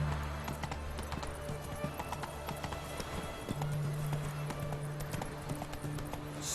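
Hooves of Roach, Geralt's horse in The Witcher 3: Hearts of Stone, a steady clip-clop at a brisk pace under low ambient rumble, a short tone and a faint snort.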